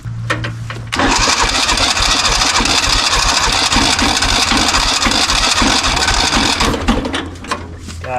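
An old Kubota diesel tractor, left in weeds for over 20 years, cranks and labours to start, a loud sustained churning engine roar lasting several seconds before dropping away, with diesel pouring from the exhaust.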